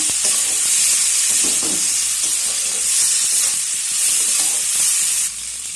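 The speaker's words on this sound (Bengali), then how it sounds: "এবার আলুটাকে মশলার সঙ্গে ভালো করে কষিয়ে নেব" Already-fried potatoes are stirred with masala in oil for a Bengali curry, giving a loud, continuous hissing sizzle with soft scraping of the spatula throughout.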